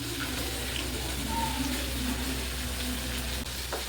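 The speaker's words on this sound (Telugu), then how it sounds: "బాగా ఫ్రై అయ్యేంత వరకు, ఈ కలర్ వచ్చేంత వరకు ఫ్రై చేసుకోవాలి." Chicken pieces frying in hot oil give a constant, dense sizzle that holds steady and close throughout, with a faint low hum underneath.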